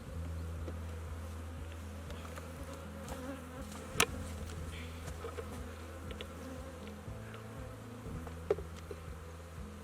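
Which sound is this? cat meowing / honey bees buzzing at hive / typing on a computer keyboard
honey bees buzzing at hive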